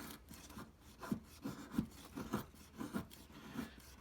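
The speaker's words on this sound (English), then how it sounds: "you just turn your stick like this, and you get those thin shavings of wood on" A knife scrapes thin shavings from a wooden stick for a feather stick, a quiet series of short rasping strokes in a steady rhythm with faint background hiss.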